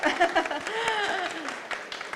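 An audience at a talk event gives a short round of applause over the host's voice, the clapping fairly soft and brief beneath continuing speech.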